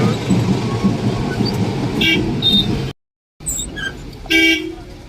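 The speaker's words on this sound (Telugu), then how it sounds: "మార్కెట్లో మాత్రం ఫుల్ ట్రాఫిక్ జామ్, బయట దాకా ఉండిపోయినాయి" Car horns honk in a traffic jam near the Guntur market, several short toots over a loud engine and road rumble, with a brief gap of silence before more honks close by.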